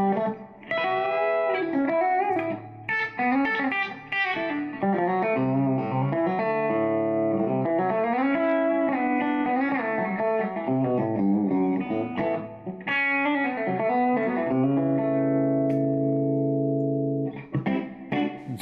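A Les Paul electric guitar on the center pickup position with mild distortion plays sustained chords and melodic lines, loud and close, with a sliding, effected tone and no voices.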